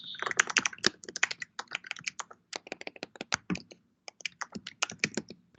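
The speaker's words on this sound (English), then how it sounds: "You're typing." Rapid, irregular clicking of keys on a computer keyboard typed during an online community Q&A call, a steady run of close, crisp keystrokes with brief pauses and no talking.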